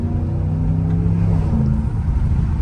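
A Ram TRX pickup's 600-horsepower engine pulls hard under acceleration, a loud, close, steady low rumble heard from inside the truck with no talk over it.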